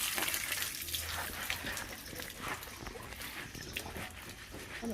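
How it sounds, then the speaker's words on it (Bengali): Skunk vine (gandho bhadali) leaves rubbed and washed by hand in water, a faint continuous swishing and splashing with a soft, noisy texture throughout. "পাতাটা কিন্তু নিচুতে ছিল না, তো বেশি মাটি নেই, তাও আমি একটু কচলে কচলে ধুয়ে নিচ্ছি।"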